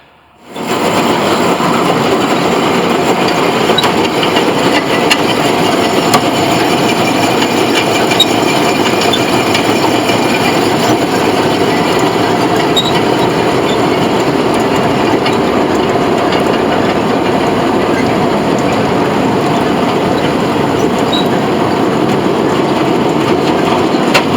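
A Gleaner K combine harvester runs steadily with a dense, rattling mechanical roar and rhythmic clatter, loud and continuous throughout, no voices.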